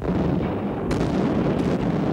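Dull, distant booms of gunfire from the last battles of World War II in Germany in spring 1945 come through heavy, rumbling background noise, with two rough blasts standing out.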